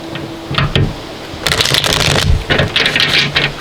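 Tarot cards are shuffled in a few quick riffling bursts, crisp and close, with brief pauses between them and no talking.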